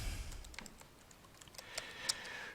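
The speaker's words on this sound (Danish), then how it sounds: "Lige prøve hernede at skrive PowerPoint" Someone types a few quick, light keystrokes on a computer keyboard, a short run of soft, close clicks in a quiet room.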